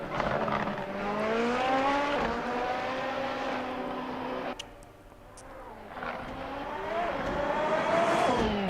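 Racing cars circle the track at SUGO in a racing video game, with engines revving and shifting through rising whines, a brief lull mid-way before the next car climbs loudly through its gears.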